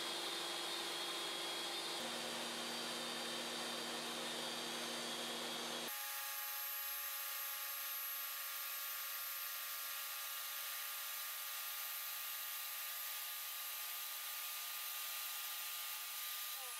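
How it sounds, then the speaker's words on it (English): A table saw blade grinds into a zero clearance insert, a continuous filtered rushing whine that steps up in pitch and brightness partway through as the blade rises, steady and moderately loud throughout. "Now I can make the cut for the blade on the insert, using the blade itself by raising it little by little."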